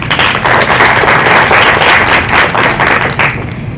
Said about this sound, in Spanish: a quien le recibimos con fuerte voto de aplausos